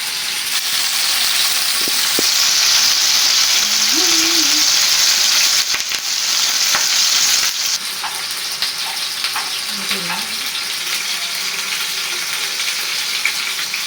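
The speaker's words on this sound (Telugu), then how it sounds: "నూనె అయితే బాగా కాగింది, సౌండ్ కూడా వస్తుంది కదా" Fish frying in hot oil, caught from a village pond, gives a steady, loud sizzling hiss that runs the whole time, with faint voices murmuring underneath.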